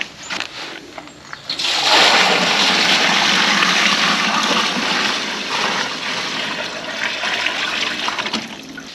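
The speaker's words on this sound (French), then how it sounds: "je vais mettre un seau d'eau dans la cuve" A bucket of water is poured into the hopper of an IMER Small 50 plaster sprayer, making a loud, close gush and splash that starts suddenly and carries on steadily for several seconds, then eases slightly toward the end.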